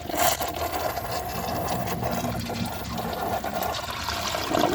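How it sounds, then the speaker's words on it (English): A defective 1996 Crane Hymont toilet flushing, a continuous rushing and swirling of water at steady loudness for several seconds, close by with no talking. "For a toilet that can't flush right, this has impressive performance."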